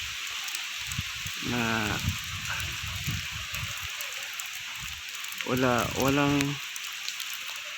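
Steady rain from Typhoon Tino falls in Santander, Cebu, a constant broadband hiss throughout, with someone talking briefly over it twice.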